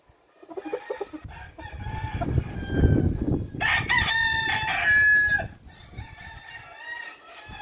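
A rosón gallino gamecock rooster lets out one loud, close, drawn-out crow, with clucking and scratchy farmyard noise before it and quieter calls trailing after.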